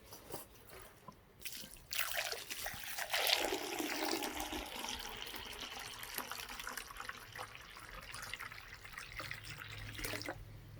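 Water poured into a clay olla buried in garden soil, a soft trickle swelling into a steady filling rush after a couple of seconds and tailing off near the end, fairly quiet and close.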